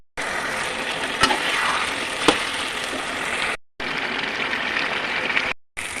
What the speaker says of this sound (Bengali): এখন আমি মাটন কষাবো